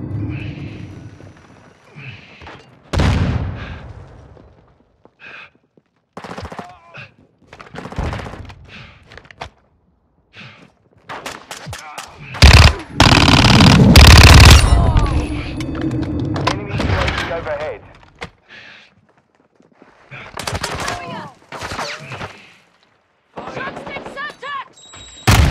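Gunfire in the video game Call of Duty: Modern Warfare 2, with bursts of automatic fire, heavy thuds and a sustained loud barrage mid-way, mixed with radio-style voices talking between shots.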